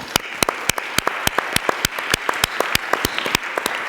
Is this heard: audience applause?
yes